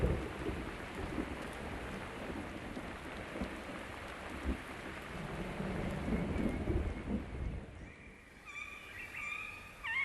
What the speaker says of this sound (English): the family listen to the sounds of the storm outside